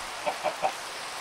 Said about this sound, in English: Oh, hey, there's another chicken right there.